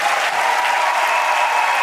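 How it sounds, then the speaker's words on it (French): Dense, steady applause from the audience at an African women's day celebration, a loud and continuous wash of many hands clapping together with no pauses, close and filling the room. "Applaudissez pour nos deux princesses."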